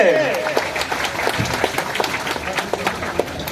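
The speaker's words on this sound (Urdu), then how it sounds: "دے آپ کی بھرپور تالیاں, تالیوں کی آواز آنی چاہیے" An audience applauds at a foundation stone ceremony for a rehabilitation center for disabled persons, with scattered sharp claps under a speaker's ongoing voice.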